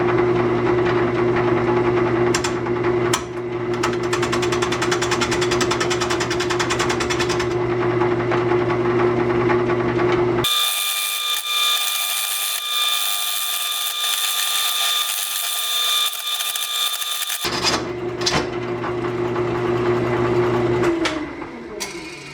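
A wood lathe spins an out-of-balance bowl at about 550 RPM, a steady mechanical hum with a rhythmic thump. Partway through, the motor drone drops out and leaves a thinner high whine before the full running sound comes back and winds down.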